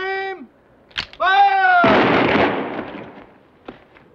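A firing squad's rifle volley bursts out loud and close right after a shouted command, a dense blast that rolls and fades over a couple of seconds, with a few sharp stray cracks afterward.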